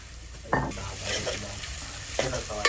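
Chicken masala paste hits a hot pan over a wood-fired stove, sizzling and frying steadily while a spoon stirs and scrapes against the metal in a few sharp clanks.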